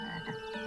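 A cartoon frog croaks in a short, tonal, warbling burst, close and clear with no talking over it, from an animated bears adventure episode.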